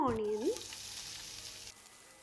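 Hot oil sizzles and crackles steadily as fennel seeds and curry leaves fry, after a brief rising squeak at the start.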